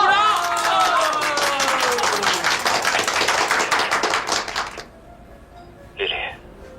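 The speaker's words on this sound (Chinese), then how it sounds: "鼓掌！" Classmates applaud in a classroom, a dense burst of clapping lasting several seconds with voices mixed in, then fading out abruptly, followed by a brief short sound near the end.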